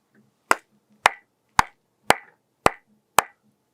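Six sharp hand claps spaced about half a second apart, crisp and close, with silence between them and no talking.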